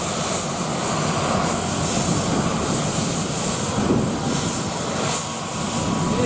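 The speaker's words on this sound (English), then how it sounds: "there goes the number 4 helicopter" A display helicopter roars overhead at an air show, its steady rotor and engine noise loud and continuous throughout, with no talk.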